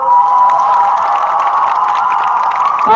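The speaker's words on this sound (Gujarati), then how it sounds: "આપણે તાળીઓનું તાળી પાડવાનું ચાલુ રાખીશું" A large crowd at a political public rally cheers and applauds continuously, a loud sustained roar of clapping and raised voices throughout.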